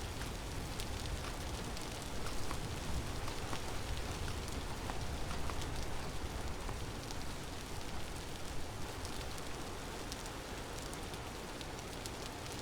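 Rain falls steadily in a video game, a soft even hiss with scattered faint patter, quiet and continuous with no voices.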